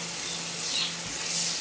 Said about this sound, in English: You put the onion. That's it for the moment. I'll let that saute down.